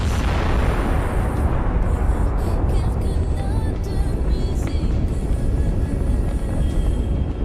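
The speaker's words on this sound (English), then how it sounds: "the shells for the 125mm gun will ignite and cause a spectacular explosion." A tank's 125mm gun ammunition cooking off after a kamikaze drone strike: a sustained, loud roaring blast of fire and crackling that stays dense and undiminished throughout, heard from a distance without talk.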